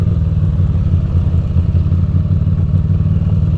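A dirt bike's engine runs steadily close by on rocky ground, a loud, even low throb with a fast pulsing rhythm and no change in pitch throughout.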